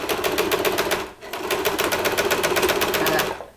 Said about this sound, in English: I did a little bit of back stitching there at the inseam at the crotch